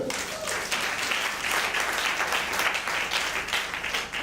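A church congregation applauds in a dense, sustained wash of clapping that stays even and full throughout, with faint voices underneath.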